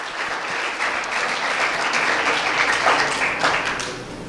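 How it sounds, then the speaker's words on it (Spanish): Steady applause from an audience at a talk about running a business, dense clapping holding at an even level throughout without any voices over it. "Se merece un aplauso."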